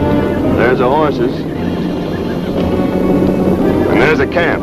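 Horses whinny in a rugged Montana canyon outdoors, two wavering neighs, one near the start and another toward the end, over steady background rumble and movement.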